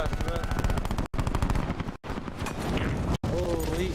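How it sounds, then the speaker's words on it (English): Rapid automatic pistol fire in an online shooter video game, a fast, steady run of shots repeating under loud voices and game sound, with brief dropouts between bursts. "Auto fire pistol, man."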